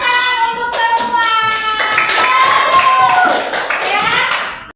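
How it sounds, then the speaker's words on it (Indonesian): Children in a fifth-grade classroom clap their hands in quick bursts while young voices call out loudly over and between the claps, close and lively. "Tepuk tangan untuk semua"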